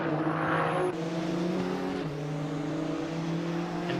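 GT3 race cars from a racing video game at Fuji Speedway, engines droning loudly and continuously with shifting pitch as they accelerate past, no talking.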